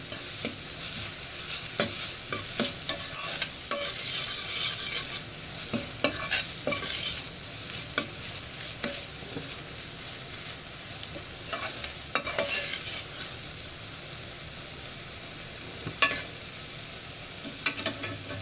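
Ginger garlic paste and chili stirred into a cabbage tomato curry in a frying pan, a continuous sizzle with repeated scraping strokes of the spoon, close and steady, with no voices.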